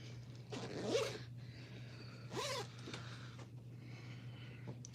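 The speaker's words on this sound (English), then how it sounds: "I am zipping up this jacket." A jacket zipper being pulled in two quick, close zips with a brief rasp in between, over a steady low hum in a quiet room.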